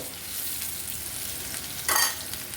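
Onions sizzle softly in a pan for a noodle dish with chicken balls and sausage, a steady faint crackle broken by a brief louder scrape and hiss of stirring near the end.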